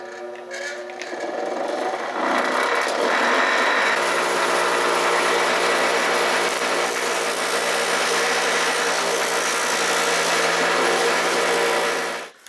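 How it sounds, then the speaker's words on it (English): A buffing wheel spins steadily while jeweler's rouge polishes brass hardware, a loud continuous motor whine with a broad grinding hiss that builds in the first two seconds, holds evenly, then cuts off at the end. "a little jeweler's rouge on the buffing wheel"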